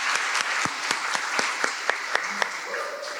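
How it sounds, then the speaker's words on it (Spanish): A church congregation claps together in a steady, evenly spaced rhythm, the sharp claps fairly close and continuing for a few seconds over faint background murmur. "Ok, un aplauso para ellos."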